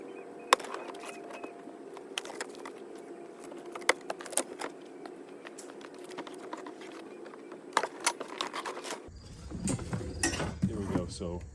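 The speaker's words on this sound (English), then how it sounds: "we're just going to go ahead and open the box and I'll show you the contents" Box of a Menards SVI 12-foot animated Wendigo Halloween prop being opened, with scattered cardboard rustles, knocks and clicks close by at fairly low level, and a louder burst of handling noise near the end.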